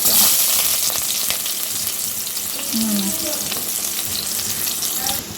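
Food frying in a pan makes a constant loud sizzle with occasional stirring scrapes and a brief faint tonal sound partway through, close up and without speech.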